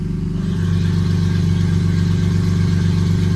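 BMW E46 idling with its Turner Motorsports valved catback exhaust closed, a close, steady low rumble that holds its level after a brief rise at the start.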